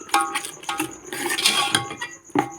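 A metal spoon scrapes and clinks against a pot while mashing gajrela, a carrot and rice kheer: several separate knocks and rubbing scrapes, close and clear, with no talk.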